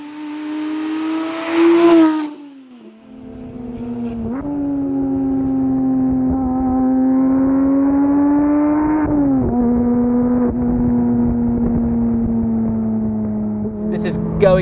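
Porsche GT3 engine revving hard to 9,000 RPM, a loud sustained high-pitched wail that rises, dips briefly at each shift, then climbs again with a brief blip near the end.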